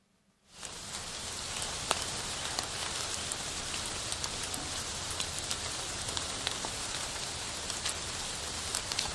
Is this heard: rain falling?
yes